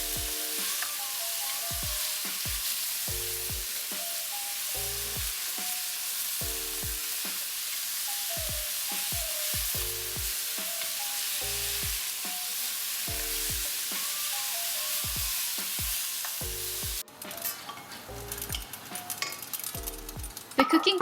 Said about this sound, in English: Stir the meat so that the oil and ginger can mix well together along with it.